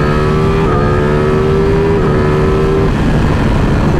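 Lamborghini edition Ducati Streetfighter motorcycle accelerating hard in stock form, its engine note loud and steady with rising and shifting tones through gear changes, heard up close with no talk.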